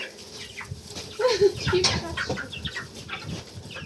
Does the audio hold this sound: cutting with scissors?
no